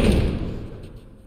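A heavy door slammed shut and barricaded in The Last of Us Remastered, a loud close thud with a booming low rumble that decays over about a second.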